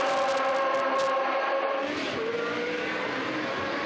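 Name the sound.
historic racing car engines passing at Estoril circuit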